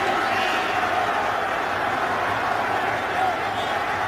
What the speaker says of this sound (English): I'm not sure what describes this crowd at Heinz Field more, stunned or angry